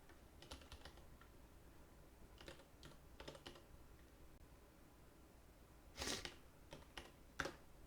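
Keys tapped on a computer keyboard while entering commands in a Linux terminal, heard as quiet, close bursts of quick clicks separated by pauses, with a sharper louder flurry near the end.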